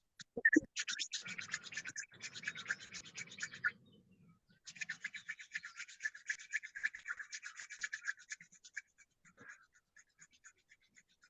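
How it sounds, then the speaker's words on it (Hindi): Two palms rubbed briskly together to warm them, a close dry scratchy swishing in fast rhythmic strokes, running for a few seconds, pausing briefly, then continuing, with no talking. "हमारा जो हाथ है, दोनों हाथ को हम पूरा रब करेंगे, रगड़ेंगे। इन हाथों को रगड़ेंगे, इतना रगड़ेंगे कि गर्म हो।"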